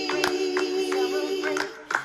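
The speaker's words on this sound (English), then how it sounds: "Everybody clap." A live audience claps along to the gospel song "We Celebrate You", with a handful of loosely rhythmic claps under a sustained sung vocal.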